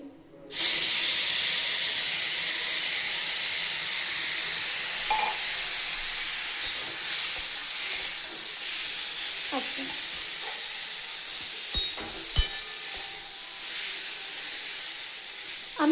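Raw mango pieces fry in hot oil for a pickle, a loud continuous sizzle erupting at once, with scattered scrapes and clicks as the pieces are stirred in the pan, no speech.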